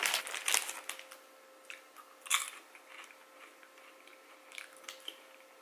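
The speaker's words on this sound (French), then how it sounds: "j'avais le goût d'un petit popcorn d'après-midi, alors pourquoi pas" Someone close to the mic crunches and chews mouthfuls of sweet-and-salty kettle corn popcorn, with loud bites at the start and middle and softer chewing between them. A faint steady hum runs underneath, and nobody speaks.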